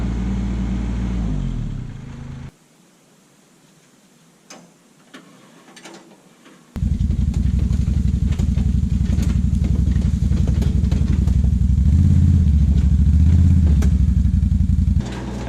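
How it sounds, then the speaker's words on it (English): A small 4-inch wood chipper running outdoors on a forest property in fall, with an engine drone that drops to a quiet idle gap, then surges back loud and steady with rattling, clattering chips through its last stretch. "This little 4-inch chipper I picked up a few summers ago has been a real help around the property."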